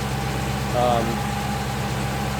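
A 2016 Dodge Charger Scat Pack engine with a cold air intake idles with a steady low rumble, with a brief rise partway through.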